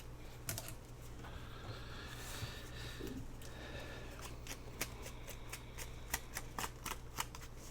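Scissors trim excess white paper from a journal page, a series of close, crisp snipping cuts that grow quicker and more regular toward the end, over faint room noise.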